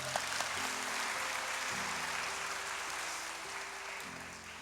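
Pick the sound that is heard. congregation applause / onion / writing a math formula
congregation applause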